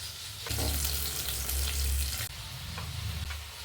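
Chicken pieces marinated in garam masala fry loudly in hot oil, a dense continuous sizzle that swells and eases as the pieces are stirred, with no talking.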